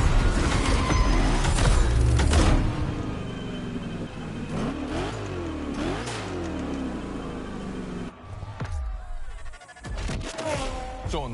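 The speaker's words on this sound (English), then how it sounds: "I haven't even told you about this monster that spits fire out of its V8" Ford Mustang V8, a fire-spitting Hoonicorn, revving in the racing game The Crew Motorfest, loud engine roar with rising and falling pitch sweeps under a voice speaking.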